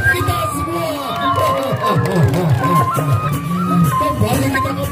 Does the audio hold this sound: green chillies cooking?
no